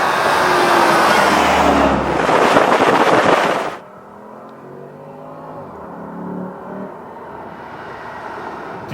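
A car driving the switchback roads of Colorado gives a loud, rising engine note that cuts off abruptly, then a quieter, smoother hum as it cruises on with a gentle surge of revs.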